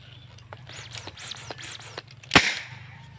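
A PVC toy gun with a slide barrel gives a series of quiet rhythmic clicks and swishes, then one sharp, loud snap of a shot near the middle, with a faint background hum.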